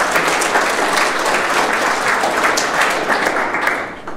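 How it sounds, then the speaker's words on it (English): Steady, dense applause from a conference audience at the DevOps 2016 event in Helsinki, loud and continuous throughout with no individual claps standing out. "Applause for them."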